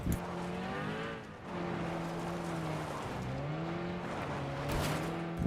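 Vehicle engine in PUBG, running close with rising and falling revs as the car pulls away, with brief tire squeal and no talk.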